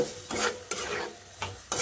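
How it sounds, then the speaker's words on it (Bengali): Small shrimp (icha fish) sautéing in a pan, a soft sizzle broken by four quick scraping stirs of a spatula, close and clear with no voices. "এখন একটু ইচা মাছ দিয়েও কষিয়ে নিব।"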